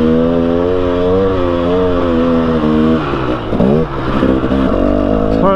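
A two-stroke dirt bike engine revs loud and close on a trail, its buzzing note holding steady, then rising and falling through sharp throttle blips near the end, with no talk over it.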